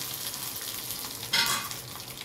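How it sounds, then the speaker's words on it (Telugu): Curry leaves sizzle in hot oil in a pan while being stirred for tomato chutney, giving a steady soft crackle with a brief louder burst of frying as they are mixed. "కరివేపాకు వేసుకున్నాను కరివేపాకు. ఇది కలుపుకోవాలి."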